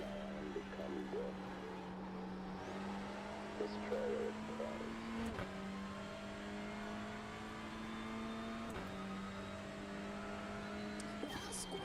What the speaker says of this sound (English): There's a faster car bearing down on you.